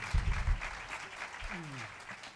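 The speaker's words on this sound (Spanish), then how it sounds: "dalo, claro que sí, ese aplauso fuerte" Applause from a concert audience at a Canary Islands Day show, a brief burst of clapping under a voice, with a low tonal sweep near the end.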